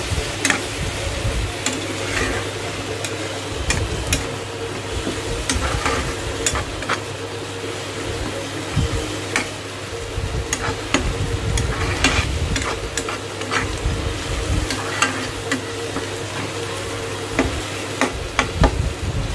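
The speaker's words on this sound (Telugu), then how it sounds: "దీనిలో కొద్దిగా అల్లం వెల్లుల్లి పేస్ట్ కూడా వేసుకొని పచ్చివాసన పోయే వరకు ఫ్రై చేసుకోవాలి" Amaranth leaves and liver frying with ginger garlic paste in a pan make a continuous sizzle, with frequent stirring scrapes and ticking utensil knocks in an irregular rhythm, close and fairly loud, no talking.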